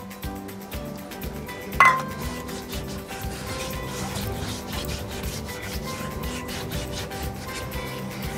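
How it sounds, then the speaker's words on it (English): A scrubbing brush works descaler over mineral residue inside a dishwasher, giving quiet repeated rubbing strokes with one brief clink partway through. "So I'll scrub this area."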